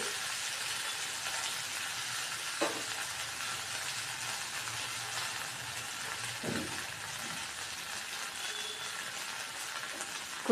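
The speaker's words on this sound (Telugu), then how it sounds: "ఈ కలిపేటప్పుడు ఇలా అంచుల నుంచి అలా కలుపుతూ ఉండాలి" Jowar flattened rice is stirred in a pan, giving a continuous, even frying hiss with two soft utensil taps, with no voices.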